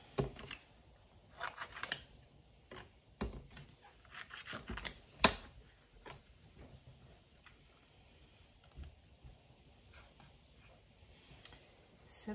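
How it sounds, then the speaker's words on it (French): Scissors snip in scattered, quiet bursts of sharp clicks and rasps, with short pauses between cuts, close by. "Il faut juste une paire de ciseaux."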